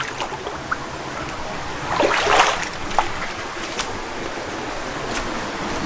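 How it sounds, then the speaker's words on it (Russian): Rushing water and splashing as someone wades across a waterfall pool in southern Bohol, Philippines, with a continuous hiss of falling water and a louder burst of splashing midway. "Блин, прикольно, водопад, его вот так вот вброд переходить."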